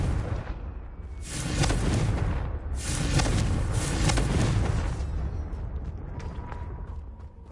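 A Confringo fire spell blasts in Hogwarts Legacy, a loud booming explosion with rumbling low end and crackling bursts that swell and fade over several seconds.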